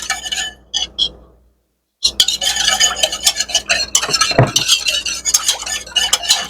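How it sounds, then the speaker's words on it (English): A spoon stirs a cashew chicken mixture seasoned with pepper in a bowl, scraping and clinking close up in quick busy strokes after a brief pause near the start. "Now I'm just going to mix this up."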